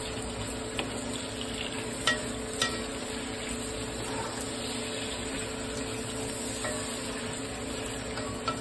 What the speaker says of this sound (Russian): Обжарим мясо и опять подключим.